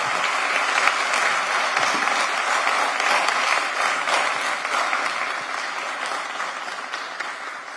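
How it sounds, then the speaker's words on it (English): Sustained applause from a commission meeting audience honoring a fire department officer, a dense even clapping that carries on for several seconds and slowly tapers. "We honor and applaud Ignatius C. Carroll Jr."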